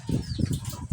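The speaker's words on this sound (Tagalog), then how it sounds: "Yun, may mga ibon." Birds flapping their wings nearby, a brief burst of rapid fluttering wingbeats.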